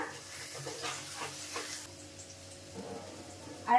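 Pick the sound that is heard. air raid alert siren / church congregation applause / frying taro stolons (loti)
frying taro stolons (loti)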